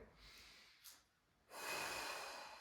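A faint snort and quick gasp are followed by a long, rushing deep inhale during a breathing exercise, the airflow swelling close and loud before tapering slightly.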